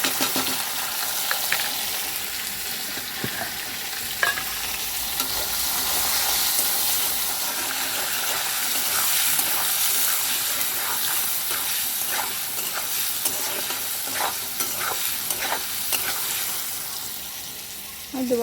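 Salt, turmeric and dry chili powder fry in hot oil for ghugni, a steady close sizzle and hiss running throughout, broken by scattered scraping clicks of a spoon stirring the pan; no one speaks.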